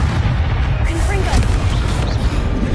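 A Confringo blasting spell bursts in Hogwarts Legacy, a dense continuous rumble of explosive booms with crackling debris filling the short stretch, loud and close with no break.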